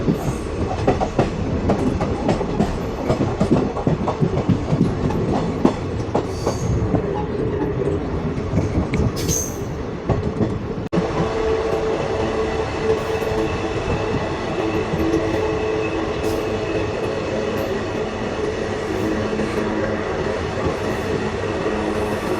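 A passenger train near Thoothukudi running steadily, with a continuous rumble and clickety-clack of wheels on rails throughout, close and loud, and occasional squeals and rattles.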